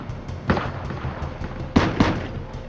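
Gunfire in a reenacted crime shootout, three sharp cracks: one near the start, then two more close together near the end, against a low background rumble.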